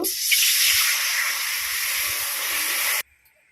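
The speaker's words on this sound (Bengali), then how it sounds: "কড়াইতে একটু জল দেব" Water poured into a hot kadai hisses and boils loudly and steadily for about three seconds, then cuts off abruptly into near silence.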